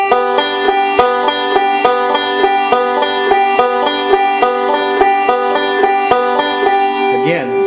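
A banjo picks a quick, even forward roll pattern, bright plucked notes repeating in a steady rhythm, close and clear.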